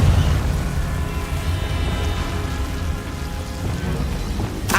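A Confringo blasting spell in Hogwarts Legacy bursts with a loud, rumbling low boom that lingers through the clip, closing with a sharp crackling burst at the end.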